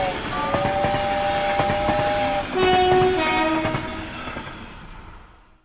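A railtour train passes through Bodmin Parkway station in Cornwall, loud and close, its horn sounding in long steady blasts over the continuous rumble and clatter of the wagons, fading slightly toward the end.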